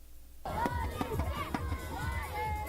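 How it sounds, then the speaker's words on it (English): Kids cheer and shout at an outdoor Toronto Maple Leafs hockey practice in a park, a lively crowd of young voices and babble with scattered yells and rhythmic thumps. "Kids cheer on the Toronto Maple Leafs during an outdoor practice in High Park last week."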